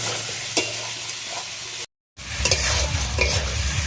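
Potato curry (aloo dum) with tomato is stir-fried in a pan, a close, continuous sizzle with scraping stirs, broken by a brief silent gap before the frying resumes louder.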